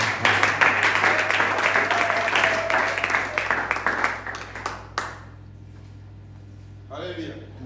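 A church congregation applauding during a French-language worship service, dense steady clapping for about five seconds before it abruptly drops away, leaving quiet room tone and a brief voice near the end.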